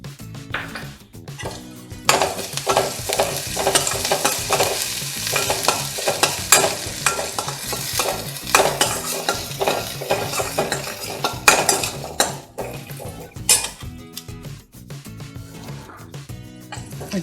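Vegetables sautéing for veg momos, with green chillies, onion and cabbage stirred in a pan: steady close frying hiss with repeated spatula scrapes and metal clinks against the pan throughout.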